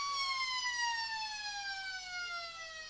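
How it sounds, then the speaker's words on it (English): A long half-time siren at an Australian rules football ground, one steady tone slowly falling in pitch, heard alone and clear for its full length. "There it is, the siren."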